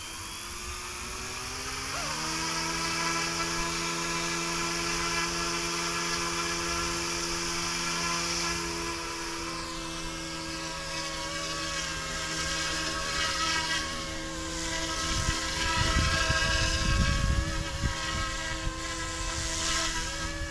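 Yuxiang F09 BlackHawk RC helicopter flying at a field, a steady high-pitched whining rotor and motor drone that holds close and loud, shifting pitch slightly as it hovers and bobs.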